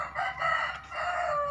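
Chickens near their egg-laying nests crow and cluck loudly and continuously, close by, with no talk over them.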